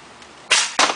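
An air cannon fires with a sharp, close pneumatic blast, followed a moment later by a second, similar burst after a brief silence.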